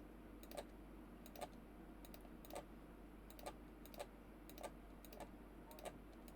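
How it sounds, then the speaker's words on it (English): Typing on a broken, worn computer keyboard, single sharp key clicks falling about once every second at a slow steady pace, faint over a low constant background hum, with no talk. "It's really bad that I have this crappy keyboard"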